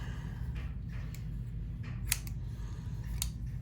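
Scissors snipping bracelet cord for a beaded stackable bracelet, a few quick crisp close snips over a steady low background hum.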